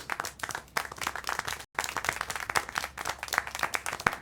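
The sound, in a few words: clapping in the video game Syberia 4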